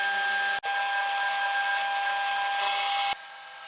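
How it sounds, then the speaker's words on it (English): A 3-flute roughing end mill cuts a slot in steel, giving a steady, loud machining whine with a brief dip early on and a slight drop in level near the end; no one talks. "I then made the slot using a 3-flute roughing end mill."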